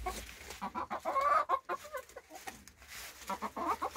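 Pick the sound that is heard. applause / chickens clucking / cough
chickens clucking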